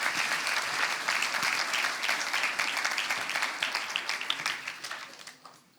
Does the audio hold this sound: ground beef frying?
no